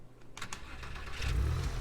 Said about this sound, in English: it'll sound like a sports car